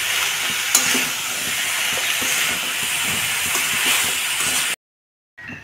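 Chickpeas in water bubble and hiss in a wok while cooking chana masala, a steady close boiling sound with faint stirring, ending in a short silence before it briefly resumes.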